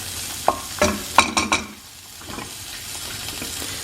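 Guanciale renders its fat in a too-hot pan with a close sizzle. Sharp scrapes and clinks from stirring sit on top, then the sound eases into a quieter, steady frying hiss.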